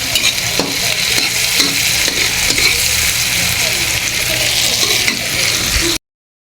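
Chopped tomatoes sizzle loudly in a frying pan for tuna pasta while a utensil scrapes and stirs through them in regular clacking strokes, close and continuous without talk until the sound cuts off.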